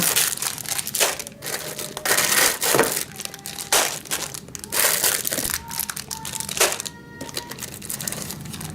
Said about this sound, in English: All the little pieces are in plastic bags that you'll need to open.